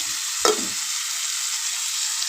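A spoon scrapes through field beans as salt and spices are mixed in a hot pan, one brief clatter over a soft, steady sizzle.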